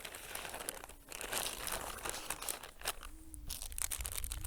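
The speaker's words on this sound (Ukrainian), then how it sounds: "Ми опускаємо в пакет страву." Thin plastic ration-heater bag crinkling and rustling up close as a packaged field ration dish is lowered into it, a steady soft crackle with a few sharper crackles, no talking.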